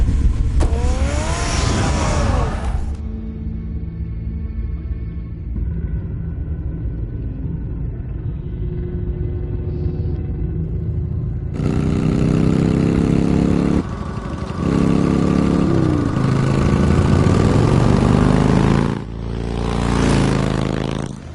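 Car engine revving in The Batman video game, a rumbling motor rising and falling in pitch over about twenty seconds, loud and steady with surges, no talk.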